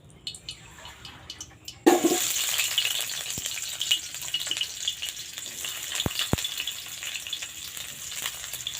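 Chopped onion hitting hot mustard oil in a wok, a sudden loud sizzle that settles into a steady close frying hiss, broken by a few sharp clicks of a spatula.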